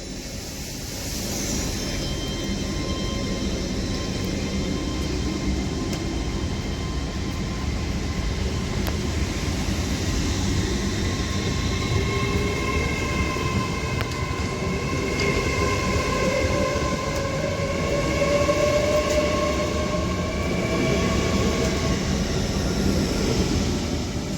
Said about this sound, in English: Now departing is going to be the 1435 Avanti West Coast service to London Euston via Birmingham New Street